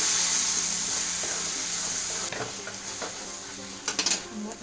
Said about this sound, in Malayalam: 1/4 ടീസ്പൂണ് ഗരം മസാലപ്പൊടി ഇത്രയും ഇട്ടിട്ട് നല്ലപോലെ നമുക്കൊന്ന് ഇളക്കി യോജിപ്പിച്ചെടുക്കുക